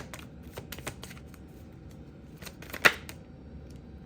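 Tarot cards being shuffled and drawn during a reading, a scatter of quiet papery taps and flicks with one sharper snap of a card near the end, close and otherwise quiet.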